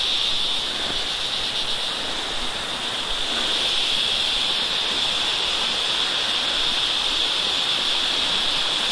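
Thalanar waterfall on a hillside near Valparai, a steady loud rush of falling water filling the whole stretch without a break, with a faint insect-like hiss riding above it and no talking.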